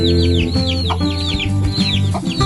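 A mother hen with seven chicks clucks and chatters close by, rapid repeated calls mixed with other fowl noises in a busy farmyard.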